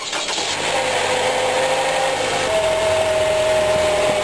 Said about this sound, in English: So now let's start the car and see what it looks like.